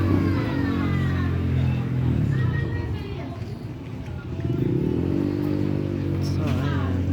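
Motorcycles pass along a street at night beside a street vendor's stall, engine drones rising and fading as they go by, with a person talking over the traffic noise.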